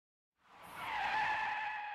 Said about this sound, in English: Car brakes just before it hits.